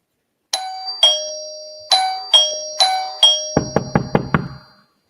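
A doorbell chimes in a series of ringing two-tone ding-dong strikes, each decaying, followed by a quick run of sharp knocks on a door, crisp and close with no voices.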